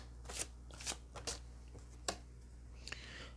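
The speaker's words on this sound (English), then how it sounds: "I'll pull cards on these, don't worry." Tarot cards being shuffled, a quiet series of quick riffling snaps and brushes in irregular bursts, close and alone with no talking.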